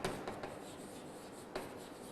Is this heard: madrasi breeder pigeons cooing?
no